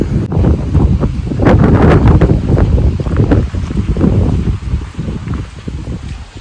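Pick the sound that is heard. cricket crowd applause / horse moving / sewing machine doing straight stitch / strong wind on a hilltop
strong wind on a hilltop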